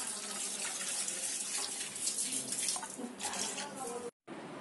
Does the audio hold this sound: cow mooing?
no